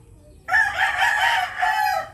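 A rooster, a gamecock, crows loudly and close, one long cock-a-doodle-doo starting abruptly after a brief near-silence.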